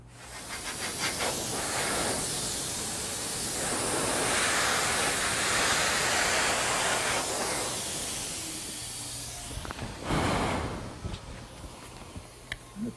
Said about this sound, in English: Now, what I like about spraying is that I can put on a nice thin coat.